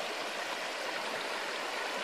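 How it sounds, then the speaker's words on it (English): Steady rush of the Swampy Plains River flowing past Geehi Flats Campground on the Alpine Way in New South Wales, a continuous broadband babble of water, close and even with no talk. "Situated on the Swampy Plains River, which is what you can see now."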